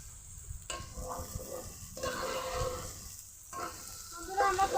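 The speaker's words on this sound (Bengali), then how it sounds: "তেল গরম হয়ে গেছে, দিব পেঁয়াজ কুচি, রসুন বাটা, দিব গরম মশলা, সব কিছু কিছুক্ষণ ভেজে নিব" Chopped onion, garlic paste and garam masala fry in hot oil for a dum biriyani, a steady close sizzle broken by bursts of stirring and scraping in the pan, with no talk.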